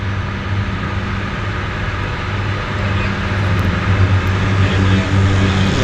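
A floatplane turns onto the active water runway at Vancouver's downtown harbour airport, its engine a loud, steady, close drone that swells slightly toward the end, with no talk over it.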